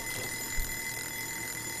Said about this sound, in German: Das hört sich an wie der Eieruhr.